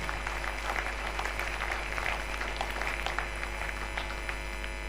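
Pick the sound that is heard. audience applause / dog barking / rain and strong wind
audience applause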